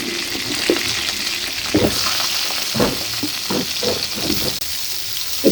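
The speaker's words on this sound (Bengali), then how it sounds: "এই তেলের ওপরেই আমি আলুগুলো ভেজে নেবো" Potatoes sizzle in hot oil left over from frying prawns, a steady crackling hiss broken by several scraping stirs of a spatula in the pan.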